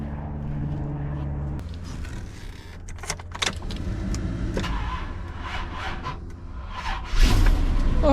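An old Chevy dump truck sits through clicks and light rattles before its engine cranks and catches near the end with a sudden loud low rumble, close by.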